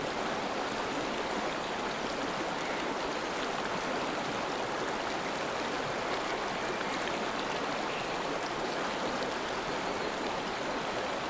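Flowing water in a temple garden from an Unreal Engine demo rushes as a dense, steady, fairly loud stream-like hiss, continuous throughout with no voices.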